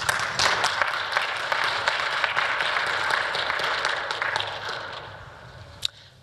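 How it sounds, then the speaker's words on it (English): Conference audience applauding a speaker after a talk on reusable R code, a broad patter of clapping that starts full and gradually thins and fades out toward the end. "Round of applause, please."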